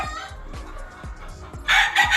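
A loud gamecock rooster crows nearby on a gamefowl farm, its call rising sharply near the end over a rhythmic mechanical thumping in the background.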